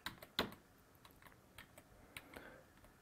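Quiet clicks of a computer keyboard come in a few scattered keystrokes and short bursts, close and soft, with no talking over them.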